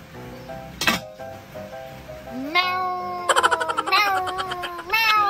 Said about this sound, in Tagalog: Kakaibang pusa to ah. Meow daw, meow.